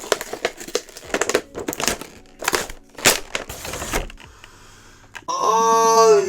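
Plastic packaging of McFarlane Poppy Playtime toy figures being opened: loud crinkling and crushing of plastic in irregular bursts, close by, followed by a brief whirring, squeaky sound at the end.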